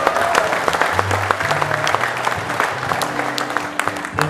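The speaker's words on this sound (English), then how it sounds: "can we get a round of applause for everybody opening up tonight" Audience applause at a Stand For Life community event at Naenae College, a steady wash of clapping from a crowd indoors with some low voices or music tones underneath.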